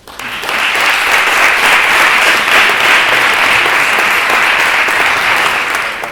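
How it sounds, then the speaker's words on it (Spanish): Audience applause at a law students' oratory competition final in Madrid, a large crowd clapping in a dense, even roar that swells quickly and stays loud for several seconds before tapering. "Por favor, un fuerte aplauso."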